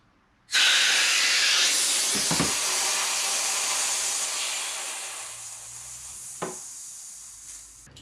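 A CO2 cartridge threaded into an airsoft magazine lets out a sudden loud, continuous gas hiss that runs on for several seconds and slowly weakens, broken by a few clicks and knocks of handling.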